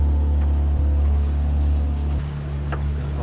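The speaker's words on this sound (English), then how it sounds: "Only a couple knots of breeze, so if sails are down, we're just motoring in." A trimaran under engine power with sails down motors into Bahia de Los Angeles in Mexico, a loud, steady low engine drone with water noise, continuous throughout.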